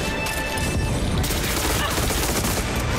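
Dense gunfire in Far Cry 6, a near, continuous volley of overlapping shots and crashing impacts at steady high loudness, with shouting voices mixed in.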